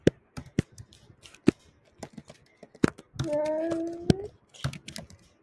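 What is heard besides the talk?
typing code on a computer keyboard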